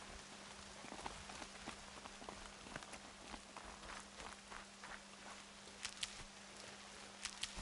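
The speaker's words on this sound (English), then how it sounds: "More rain. My boots will get damp." Rain in the video game Horizon Zero Dawn, a quiet, even hiss of falling drops with scattered sharper taps and soft footsteps moving through it.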